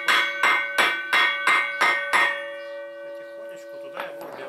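Part tapped into place on a Neva MB2 walk-behind tractor by hammering through a wooden board: six evenly spaced sharp metallic blows with ringing overtones, a pause, then one lighter strike, close and loud.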